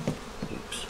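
Honeybees buzz around a frame of capped queen cells as it is handled, a close, steady insect hum with brief louder swells.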